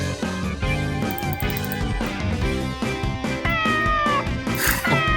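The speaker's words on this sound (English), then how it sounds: "Why are there two runaway cats?" A cat meows repeatedly in the video game Parascientific Escape, its cries blending with a steady, loud musical soundtrack.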